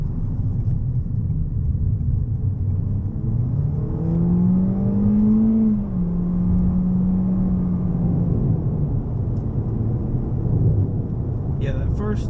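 A 2019 Toyota Corolla Hatchback accelerates hard in first gear, its engine note rising steadily then dropping briefly at a shift and droning on, loud and continuous inside the cabin with a low road rumble underneath.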